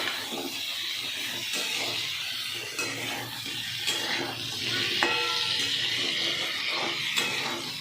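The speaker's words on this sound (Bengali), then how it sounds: "দেখুন ভাজা ভাজা হয়ে যাচ্ছে কচুটা" Taro frying in a pan, with a continuous steady sizzle and occasional stirring scrapes, loud and close, with no talking.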